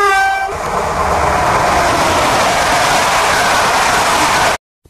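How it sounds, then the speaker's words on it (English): A freight train sounds its horn briefly, then rolls past loudly and close with a dense, continuous rumble and rattle of wagons before cutting off. "Freight train."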